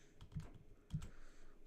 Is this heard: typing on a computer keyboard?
yes